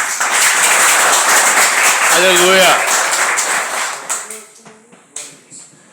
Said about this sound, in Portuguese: E as palmas para o Senhor Jesus.